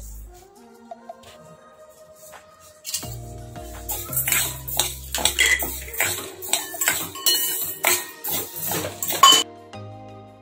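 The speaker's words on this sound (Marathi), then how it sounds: "या दोन्ही डाळी मिक्स करून मी अगदी मंद आचेवरती एका जाड बुडाच्या भांड्यात गरम होईपर्यंत भाजून घेणार आहे" Urad and moong dal are dry-roasted together over a very low flame in a thick-bottomed pan. Dry lentils rattle and scrape in repeated bursts as they are stirred, close and clear.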